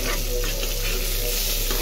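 Close, continuous sizzling and crackle of eggplant frying in a hot pan, steady throughout.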